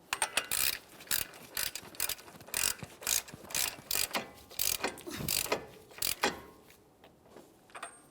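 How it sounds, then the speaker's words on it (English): A hand ratchet snugs the front axle nut on a 2014-2018 Mazda 3 during a wheel bearing and hub replacement, with rapid, close clicking bursts in quick repeated strokes, then slowing near the end. "We can snug this up using a hand tool and then we'll torque it."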